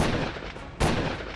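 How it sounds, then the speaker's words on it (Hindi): Gunfire aimed at an Innova car on a Delhi street, with two sharp, loud bursts about a second apart ringing into a noisy outdoor backdrop. "3 हमलावर आते हैं और इनोवा कार पर गोलियों की बारिश करने लगते हैं"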